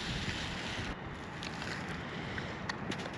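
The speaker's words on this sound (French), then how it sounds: "Il y a pas mal de vent aujourd'hui." Steady outdoor wind rushes and buffets the microphone at a carp fishing session on a breezy day, a continuous broadband roar with no voices.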